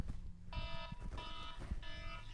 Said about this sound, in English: You hear the timer, you know what that means.